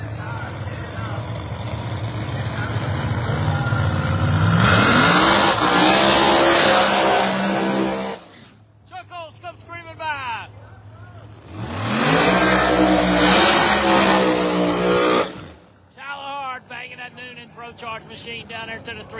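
Drag racing cars in round two qualifying at Cecil County Dragway, with two loud bursts of engine roar as cars launch and pull away down the strip, separated by quieter gaps with announcer talk.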